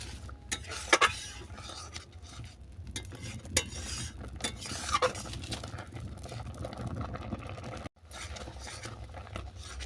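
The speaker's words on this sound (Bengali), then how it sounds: "এইভাবে সন্দেশটা আমি ক্রমাগত নাড়তে থাকবো যাতে তোলা না ধরে যায়" Sandesh sweet made with yam bean and dry fruits being stirred continuously in a pan, a steady close scraping and shuffling with a few sharp utensil clicks against the metal.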